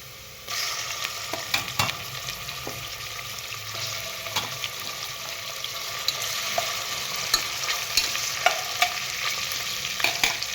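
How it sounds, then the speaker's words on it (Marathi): Chicken pieces tipped into well-browned fried onions in a pan and stirred, village-style Maharashtrian chicken curry: a steady, loud sizzle and frying hiss with scraping stirs and occasional sharper pops, no voices. "इथं बघा आपला कांदा चांगला भाजलेला आहे बघा आपण याच्यात आता चिकन टाकून घेऊ"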